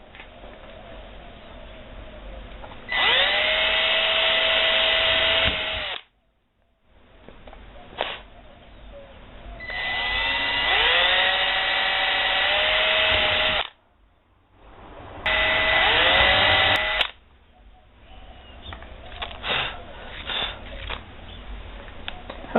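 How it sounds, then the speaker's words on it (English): Power drill boring holes in a model railroad control panel, three separate loud bursts of whining motor with pitch sweeping upward as it spins up and bites, separated by short pauses and quieter handling noise. "So let's just drill a few more holes here."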